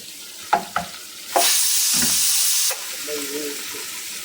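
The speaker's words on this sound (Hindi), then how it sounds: "इसको डालने के बाद इसको थोड़ा मिलाएंगे इस तरह से, ऐसे" Spices of red chili powder, turmeric and salt are stirred into sambar in a pot. A couple of sharp clinks come first, then a loud, steady sizzle for about a second, followed by quieter scraping and stirring.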